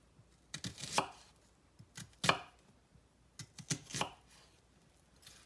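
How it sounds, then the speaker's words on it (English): A knife slices a cucumber thin for a salad, giving a handful of sharp, close chops in uneven clusters against a board with quiet gaps between, no voices. "I'm just using my knife and cutting it real thin."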